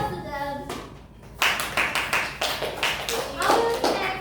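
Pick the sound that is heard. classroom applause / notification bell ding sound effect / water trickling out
classroom applause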